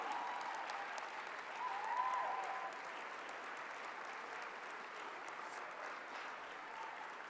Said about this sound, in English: That's enough applause.